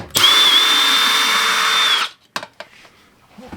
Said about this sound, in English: Turn the drill the right direction.